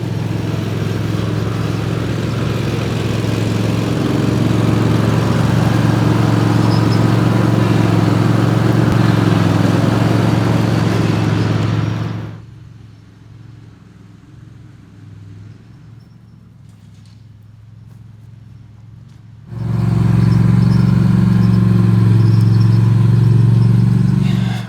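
A ride-on lawn mower engine runs steadily and loud during a test drive, drops away to near quiet for several seconds, then roars back at close range.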